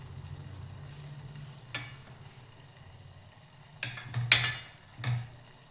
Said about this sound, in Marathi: आता यामध्ये टाकणार आहोत आपण अद्रक लसणाची पेस्ट